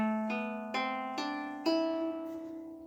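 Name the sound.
lyre played with thumb and fingers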